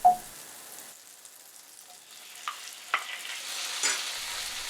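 Thirty grams of butter melts in a pan over medium heat, giving a quiet, growing sizzle with a few soft clicks and taps from a utensil, close and alone.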